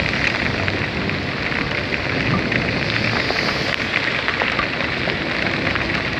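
Heavy rain pours down in Da Lat in the early afternoon, a dense, unbroken roar of falling water close by and steady throughout, with no voices.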